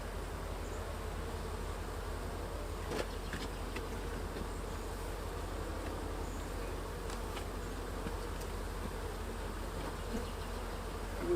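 Honey bees buzz steadily at an open hive during frame handling, a dense continuous drone close by with no talking.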